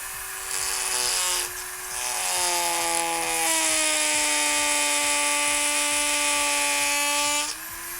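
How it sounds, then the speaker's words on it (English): A Dremel rotary tool trims nylon for a costume vambrace, giving a loud, high, tonal whine that shifts pitch slightly as it bites and eases, running continuously with a brief dip near the start. "Let me try the Dremel real quick."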